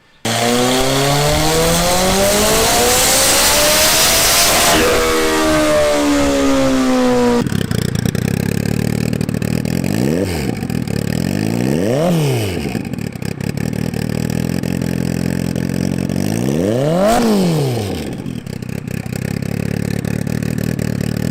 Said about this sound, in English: I'm just gonna edit some footage of a turbo hayabusa in